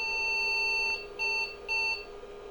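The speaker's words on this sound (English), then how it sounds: "He's going to beep at us." An IBM 5150 personal computer beeps at power-on, sounding three short, clear electronic tones that repeat evenly at close range over a steady fan hum.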